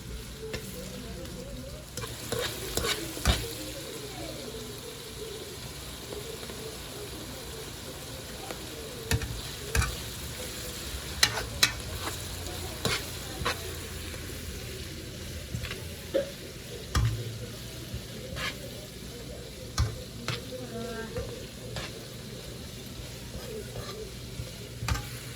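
Onions frying in a pan with a little ginger, a steady soft sizzle running throughout, broken by occasional sharp clicks and scrapes of stirring, with no talking.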